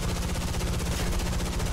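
Sustained M3 machine gun fire from an F-86 Sabre in a flight combat video game, a continuous rapid rattling burst that stays loud and steady throughout.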